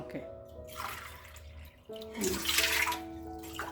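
Water poured from a glass onto sago pearls in a bowl for soaking, a steady splashing pour that breaks off briefly, then resumes more loudly, with a voice talking over it.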